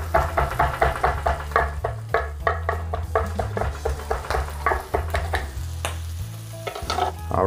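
Chorizo sizzles in a pan as it is pushed around, loud and close, with a steady frying hiss under repeated scraping and clacking strokes of the utensil against the pan.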